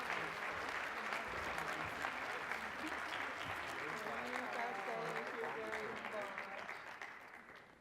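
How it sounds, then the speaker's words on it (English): Applause from the audience at an awards luncheon during a nonprofit research conference, a steady crowd clapping that carries on for several seconds with faint voices underneath and fades slightly toward the end. "could we please give them a round of applause for their help on the board?"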